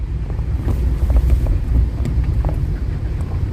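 Travelling over water through wind, with a loud blustery rumble of wind buffeting the microphone over a churning wash of water, rising and falling unevenly.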